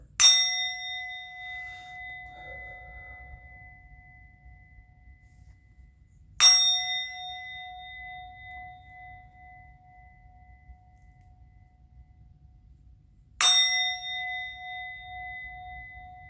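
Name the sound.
ringing a bell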